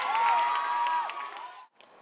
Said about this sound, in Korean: 계단 양 옆으로는 1, 2학년 후배들과 교사들이 모두 나와 격려의 박수를 보냅니다.